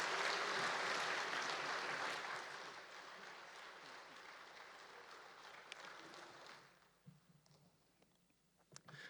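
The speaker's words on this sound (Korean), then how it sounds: "큰 박수로 환영하겠습니다" A church congregation at the closing worship of a prayer meeting for peace gives a church elder a warm welcome of applause, full and steady at first, then thinning and fading into near silence with a few scattered claps.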